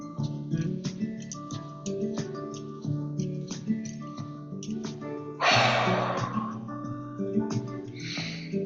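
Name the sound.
breathing exercise, forceful exhale and inhale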